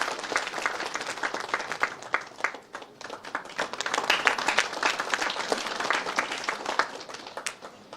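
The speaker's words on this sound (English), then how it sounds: "a wide round of applause" A crowd at an institute day ceremony applauds a guest with steady, dense clapping that carries on for several seconds without a break, fairly distant and even in loudness.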